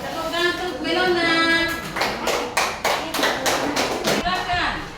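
After a stretch of talking, a small group, likely a class, gives Melona a short round of clapping in a few uneven bursts that fade toward the end.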